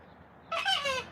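A cockatoo at sunset, about to roost, gives one brief, loud, raspy squawk, close and alone after a quiet moment.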